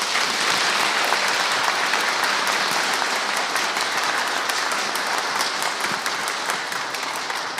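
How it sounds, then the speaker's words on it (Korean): A church congregation gathered for a priest's farewell ceremony claps in dense, sustained applause that stays loud and even throughout, tapering slightly at the end, with no talk over it. "우리 학사님 건강하게 잘 지내시도록 박수 한번 보내주십시오"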